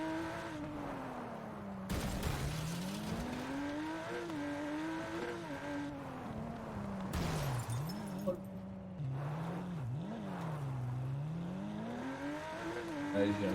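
In the WRC 9 game, a rally car engine revs and strains, its pitch swooping up and down with gear changes and bursts of gravel noise, while someone talks intermittently over it.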